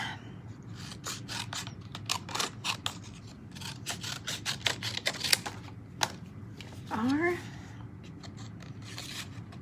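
Paper card stock is cut across for a handmade strawberry card, giving a quick series of crisp snipping and scraping strokes close by, with a brief sliding rasp near the end, all at a quiet level.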